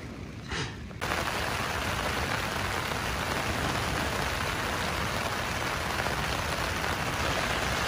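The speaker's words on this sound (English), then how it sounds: "Just enough rain to wet every bit of firewood on the island." Rain falling steadily on a beach campsite on an island, a dense even patter that starts abruptly and continues loud and unbroken.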